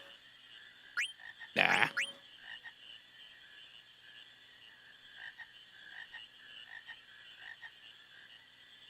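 Frogs croak in a swamp in Final Fantasy IX, a burst of loud close croaks near the start followed by fainter scattered croaks over a steady ambient hum, with one short word spoken.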